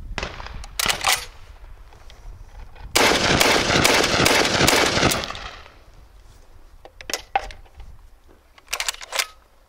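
A Hunt Group G-12 semi-automatic shotgun fires 32 gram cartridges outdoors. A few single shots are followed by a loud rapid string of blasts lasting about two seconds, then scattered lighter clatter and a couple more reports.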